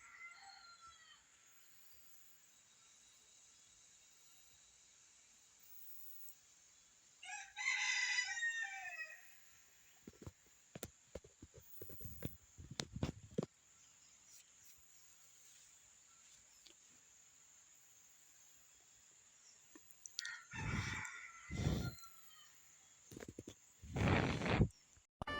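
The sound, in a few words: red junglefowl roosters crowing in the morning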